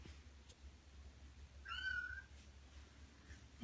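A kitten gives a single short, thin meow close by in a quiet indoor room, with faint background noise before and after.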